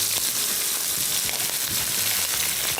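Shrimp and chicken cubes fry in a hot pan for a biryani, giving a steady, close, dense sizzle that runs without pause.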